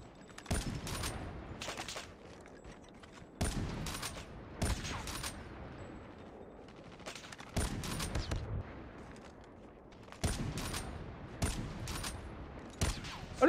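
Bursts of gunfire in the mobile shooter game Call of Duty Mobile, coming in several short rapid volleys separated by quieter gaps, sharp and fairly close.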